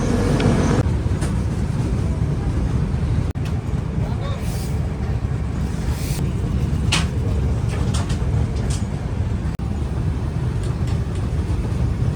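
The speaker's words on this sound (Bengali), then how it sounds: "এই ছেড়ে দিয়েছে ট্রেন।" A passenger express train in an AC 3-tier coach rumbles steadily after pulling out of the station. The low rolling noise carries light clatter and occasional squeaks, and people talk in the background.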